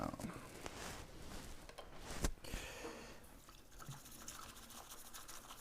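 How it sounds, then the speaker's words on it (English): A bamboo whisk whisks matcha tea in a bowl, a faint, steady swishing and frothy liquid scraping that runs throughout, close and quiet with no talking. "we just whisk it in the W form"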